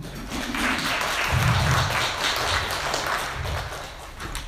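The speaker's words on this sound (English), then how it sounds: "Let's give a round warm of applause for Venerable Dahong." Audience applause at a talk on intergenerational trauma and mental health in AAPI communities, welcoming a Burmese Theravada monk of the Mahasi lineage; steady, moderately loud clapping from a crowd that carries on for several seconds.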